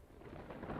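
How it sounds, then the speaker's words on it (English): Low, broad rumble of thunder in a dramatic fantasy scene, swelling steadily over a short stretch and growing louder toward the end, with no voices. "Thunder was right on time."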